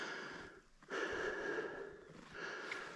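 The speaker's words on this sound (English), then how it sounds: "you can hear me breathing hard" A hiker breathes heavily while climbing uphill through deep snow, giving close, rhythmic, hissing inhales and exhales that rise and fall over a steady outdoor background.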